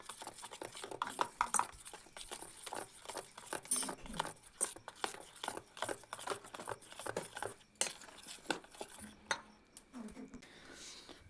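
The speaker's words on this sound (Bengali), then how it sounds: "তো এটাকে ভালো করে আরও মিলিয়ে দিচ্ছি।" Sponge cake batter made with one egg and baking powder is stirred in a bowl, with a utensil repeatedly clinking and scraping against the sides in an uneven rhythm, close and moderately loud.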